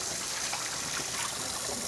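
Hot water poured off a pot of freshly boiled eggs in a kitchen, a continuous close gushing pour that stays steady and fairly loud throughout.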